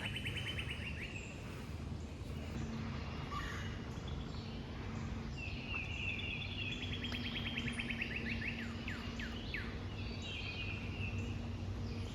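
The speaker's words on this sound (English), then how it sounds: "I'm just hearing so many birds" Several birds sing and chirp outdoors along a hiking trail, with repeated bright trills and calls at moderate distance over a steady background hiss, no talking.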